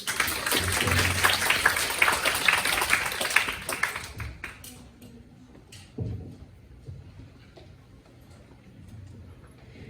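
An audience in a university hall applauds the third-year early-childhood-education student presenters at a practicum evaluation session. Dense, steady clapping fills the first few seconds, then thins out and fades to scattered claps and room noise.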